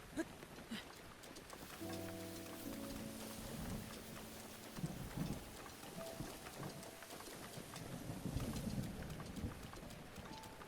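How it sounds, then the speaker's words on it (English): Steady rain hisses across the whole scene in The Legend of Zelda: Breath of the Wild, with a faint rhythmic clopping and a few low synthetic tones drifting in and out underneath. "Meanwhile, the entire area is constantly raining."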